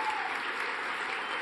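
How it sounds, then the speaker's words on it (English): Audience applause at a children's Christmas lecture about a 1578 Norwich pageant, a short, even wash of clapping heard from a distance and fairly faint. "Round of applause, please, for Thomas Churchyard."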